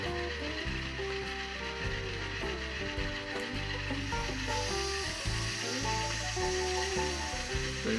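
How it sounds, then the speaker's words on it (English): An N scale Atlas Gold Line Conrail B40-8 model locomotive with an ESU LokSound decoder plays its independent brake effect: a steady air hiss over a constant, loud diesel engine drone with layered tonal hum. "There's the independent brake."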